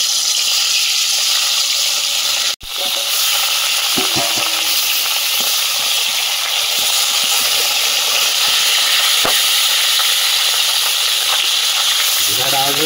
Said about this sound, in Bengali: কড়া তেতে গেছে, মাছটা ভেজে নেব।